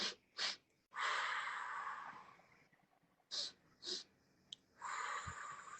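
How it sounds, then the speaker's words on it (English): A breathing exercise performed close and quiet: quick sharp sniffs in through the nose paired with longer breathy exhales through the mouth, repeated in a loose rhythm of short bursts and drawn-out breaths. "breathing in quickly, 2 strokes in your nose, and out 1 stroke through your mouth"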